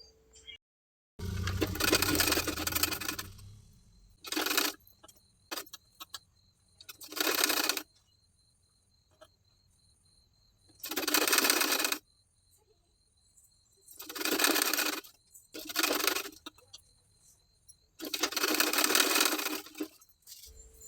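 Sewing machine stitching a folded collar band onto a garment neckline, running in several short bursts of a few seconds each with quiet pauses between, close and fairly loud.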